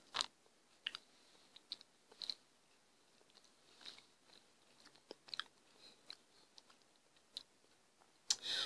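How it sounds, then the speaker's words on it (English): Someone bites into a thin salted caramel Oreo cookie and chews it, with sharp crisp crunches followed by quieter, irregular chewing clicks, close up and faint, with no talking. "Let me taste the cookie by itself."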